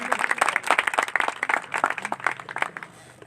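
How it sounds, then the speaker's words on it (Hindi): Applause for a doctor from an audience at a gathering: a burst of rapid, dense hand clapping that stays lively, then thins and fades toward the end, with no talk over it. "डॉक्टर साहब के लिए जोरदार ताली।"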